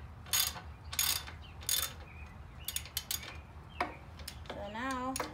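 A hand ratchet clicks in short bursts while grille bolts are snugged on a 1967 Ford 120 tractor, each quick run of metallic clicks separated by pauses, close and moderately loud, with a brief squeaky scrape near the end.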